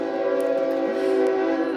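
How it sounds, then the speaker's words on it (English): A train horn blares in one sustained, fairly loud chord from a passing train nearby, with faint rail rumble underneath. "Oh, sorry about the train."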